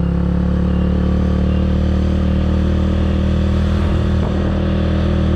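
A motorcycle in first gear climbs the steep road up to Mount Bromo, its engine a loud, close, steady droning roar that holds without a break the whole way.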